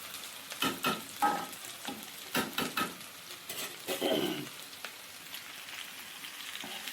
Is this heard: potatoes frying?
yes